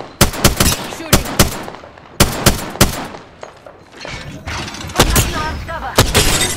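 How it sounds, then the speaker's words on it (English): Loud, close gunfire in Apex Legends: sharp shots in quick bursts of three and four, separated by short gaps, with mechanical clicks and a brief voice in between. "Shooting."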